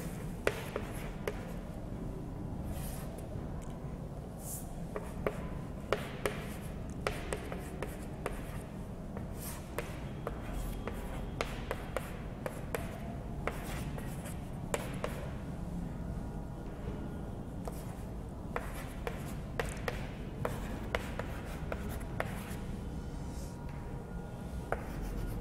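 Steady scratching of writing strokes on a surface during a lecture on the light reactions of photosynthesis, running close and continuous with small irregular taps and pauses, no voice over it.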